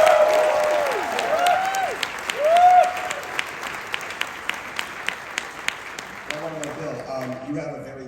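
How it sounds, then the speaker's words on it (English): Comic Con panel audience in New York applauds and cheers, with whooping voices rising over the clapping early on before thinning to scattered claps and faint talk. "can we give Bill a round of applause for his outfit?"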